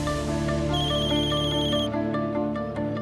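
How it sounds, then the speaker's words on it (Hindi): A telephone ringtone rings loud and close with a steady repeating electronic melody, playing alone without speech. "फोन उठाओ किरण, प्लीज फोन उठाओ यार, पिक अप द फोन।"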